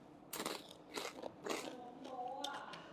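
Several crisp bites and crunchy chewing of spicy salmon papaya salad, close and fairly quiet, with a few soft mouth sounds.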